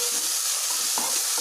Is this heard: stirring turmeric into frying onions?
yes